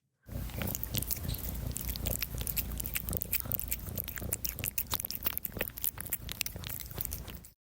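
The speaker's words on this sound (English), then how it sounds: "that was the sound of your cat Boo eating" A cat eating up close: rapid, irregular crunching and chewing clicks continuing steadily for several seconds with no talking.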